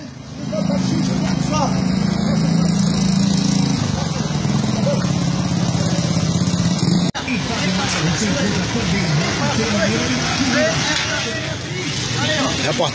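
A motor runs loud and steady at a flooded spot in Iranduba, Brazil, with a rough engine drone that continues throughout while people talk over it.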